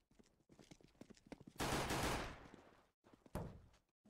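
Gunfire in CS:GO, a run of quick rifle shots followed by a longer loud automatic burst and one more short burst, with quiet gaps between them.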